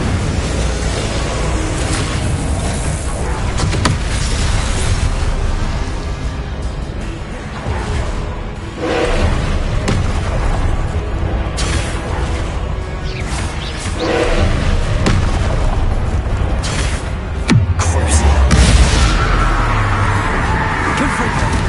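Confringo and Incendio spell blasts erupt in Hogwarts Legacy, a loud, nearly continuous wash of booming bursts and crackling impacts layered over dense game noise, with a heavier blast near the end.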